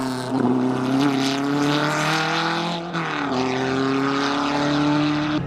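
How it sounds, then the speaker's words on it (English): A Škoda 200 RS rally car with an old carbureted engine holds a loud, raspy, rising engine note, dipping briefly midway before pulling up again, heard alone without talking. "Something about those old mechanical engines like that are carbureted, they just sound so cool."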